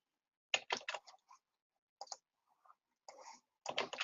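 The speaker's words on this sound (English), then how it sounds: "I'm gonna paste in some of the answers that people have here." Someone types on a computer keyboard while pasting in text, producing quiet, close clicks in short bursts separated by brief pauses, with nothing else audible.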